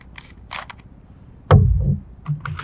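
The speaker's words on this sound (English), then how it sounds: "And now we will engage the CO2. It's going to be loaded right here through the grip." CO2 cylinder being loaded into the grip of a realistic paintball gun: a few small clicks and rattles, then one sharp, close metallic snap with a short burst of hiss and clatter, followed by light handling noises.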